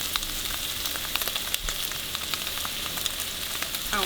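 Pork and Thai soybean paste sizzling in a hot pan, a steady close crackle with small pops throughout and no talk.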